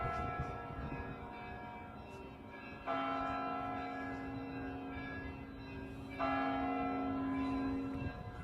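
A clock tower bell strikes twice, each ring holding a long, sustained tone that fades slowly, heard faintly at a distance over low background noise.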